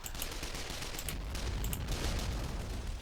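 Men of War soldiers fire blindly in a World War II battle, a faint, distant rattle of rifle and machine-gun fire with scattered sharper cracks, continuous and without talking.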